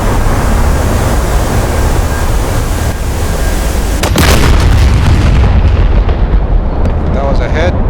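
A heavy bomb explosion in DCS Mirage 2000C over Syria lands as a sudden loud boom about midway through, rolling out into a rumbling decay over steady jet and wind noise, with a voice speaking nearby.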